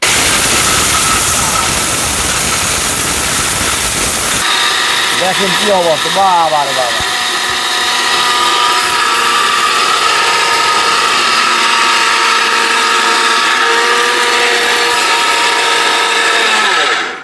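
A loud, powerful blender motor roars and whirs steadily as it grinds, while someone talks excitedly over the noise.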